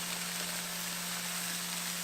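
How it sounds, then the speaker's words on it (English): A hot pan sizzles steadily before cabbage goes in, a constant hissing wash with a faint steady hum beneath, no voices. "I don't know if you can hear that, but it's sizzling, it's hot"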